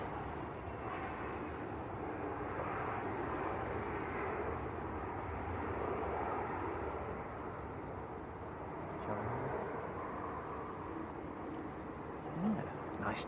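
A year-old Airbus A321neo, arrived from Alicante, produces a steady, continuous jet roar at Manchester Airport that holds at an even level throughout with a broad, rumbling wash.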